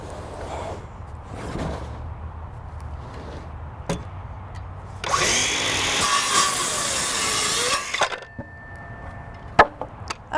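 Power saw cutting through pieces of pallet wood for a workbench: a loud, sustained whining cut of roughly three seconds midway, bracketed by quieter knocks and handling of the wood, with no talk.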